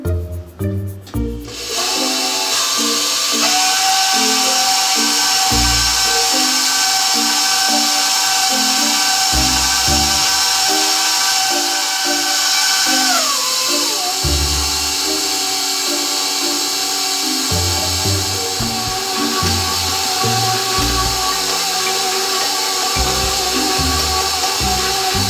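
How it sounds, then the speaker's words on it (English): A stand mixer churns thick pumpernickel bread dough with a steady, loud motor whine that continues throughout, shifting pitch partway through as the speed changes, with a rhythmic low thumping underneath. "this is ready to go on the mixer. We're going to run this mixture on probably speed 3"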